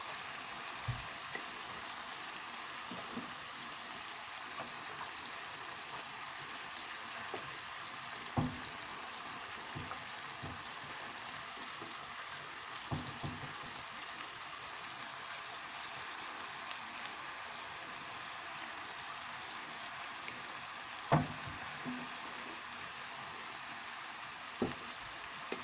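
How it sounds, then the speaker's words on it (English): Vegetables sizzle and fry in turkey pan sauce, a steady broadband hiss throughout with occasional faint pops and stirring clinks, no talk. "leave the vegetables in to fry them in the sauce"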